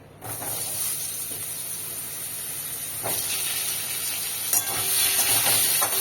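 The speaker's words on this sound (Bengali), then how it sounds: "ফোড়নটা ভাজা ভাজা হয়ে গেছে, এবার আমি তা আলু দিয়ে দেবো।" Thick, long-cut potato pieces drop into hot oil with fried tempering spices in a pan, starting a loud, sustained hissing sizzle with occasional stirring bursts that grows slightly louder toward the end.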